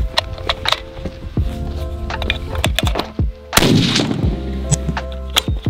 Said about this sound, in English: That's how you shoot a gun.